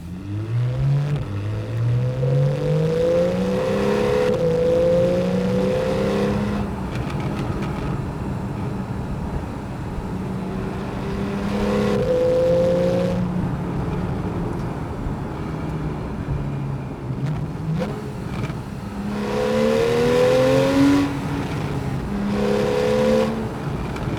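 A Porsche 911 Carrera GTS of the 991.1 generation, with a naturally aspirated flat-six, revs hard through several gears, each pull rising in pitch before a shift, loud and close, with lifts and renewed acceleration across the run.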